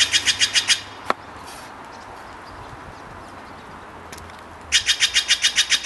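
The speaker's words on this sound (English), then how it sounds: "The stupid bird. It's right there." A nearby bird chirps in quick, rhythmic bursts of repeated high notes at the start and again at the end, separated by a single sharp click and a quieter stretch of background noise.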